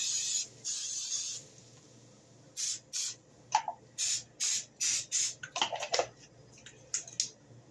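Repeated short bursts of release spray hiss close by into a muffin pan lined with paper cases, one longer blast then a quick series of puffs, with light clicks and tapping between.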